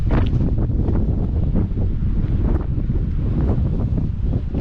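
Strong wind gusts buffet the microphone at a beach with deep holes, roaring steadily and loudly throughout with low rumbling surf mixed beneath, no voices.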